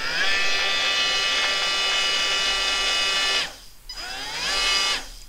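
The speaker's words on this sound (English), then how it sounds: "So what I'm going to do is I'm going to dunk it in and just rev it up." Small electric motor dunked in water and revved up, a loud high whine with bright harmonics that holds steady, cuts out briefly, then revs again with a rising pitch before stopping.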